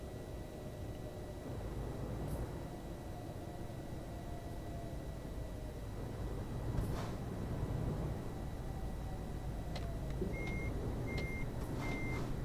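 Reversing truck in Euro Truck Simulator 2, with a few short high beeps near the end over a steady low engine drone and road noise; the beeps are faint and sparse.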